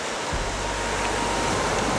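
Sea waves wash steadily onto a beach shore in a dense, continuous roar with a deep low rumble underneath, close and unbroken for the whole stretch.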